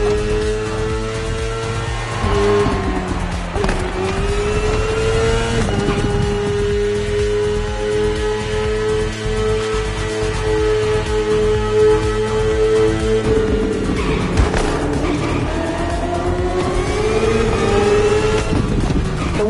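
A high-revving BMW S1000RR superbike engine in a video game drones continuously, its pitch rising and falling with gear changes, loud and close throughout.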